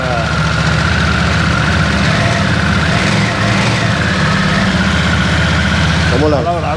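A Harley-Davidson Nightster Special motorcycle engine idles in neutral steadily and loudly, with a rough, throbbing low rumble; a voice briefly cuts in near the end.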